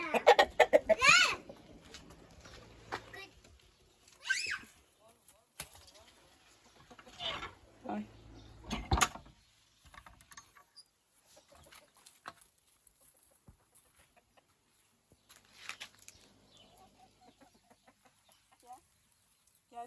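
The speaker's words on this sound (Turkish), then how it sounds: "Bak. Horoz." A rooster crows up close in a few loud bursts, with clucking and scuffling between calls and quiet stretches afterward.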